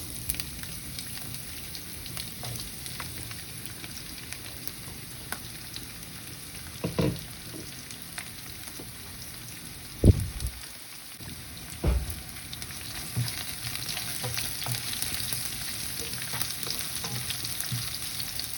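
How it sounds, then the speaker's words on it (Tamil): Onion, cumin, fenugreek seeds, garlic and chili sautéing in oil in a pan, making a low steady sizzle with occasional louder clatters and scrapes of stirring, no voices. "இது நல்லா வதங்கி வரட்டும் வெங்காயம்."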